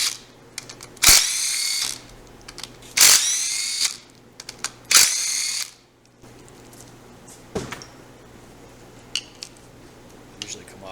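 Three loud bursts of an impact gun spinning a 3/8 12-point socket to remove a cap during a Bravo 1 seal replacement, each about a second long and evenly spaced, followed by quieter clinks and handling noise.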